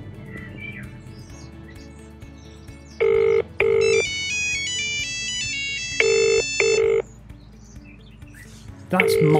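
A Nokia 3310 mobile phone rings with a bright, melodic electronic tune in short repeated phrases, loud and close, over faint background noise, after a 91-pound hammer was dropped on it.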